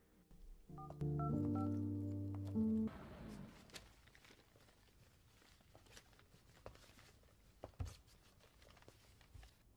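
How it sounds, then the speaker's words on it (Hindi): Phone dialing tones ring out in a rapid sequence of short beeps for about two seconds, followed by quiet rustling and soft footsteps. "चलो मैं उसे फोन कर लूं।"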